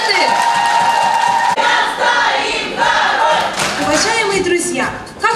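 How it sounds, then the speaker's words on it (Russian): Festival audience in a hall clapping, cheering and whooping for contestants: loud, continuous crowd noise with shouts rising over the clapping throughout. "Аплодисменты!"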